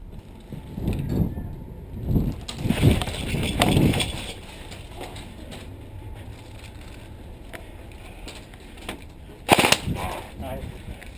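Bursts of rapid snapping shots from airsoft guns, some distant and one sharp close volley near the end, with muffled movement and faint voices in between.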